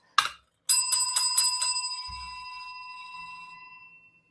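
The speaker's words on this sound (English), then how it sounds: "got my school bell" A small school bell rings with one quick strike, then a rapid run of bright metallic dings that ring out and slowly fade, close and clear, with a soft thump partway through.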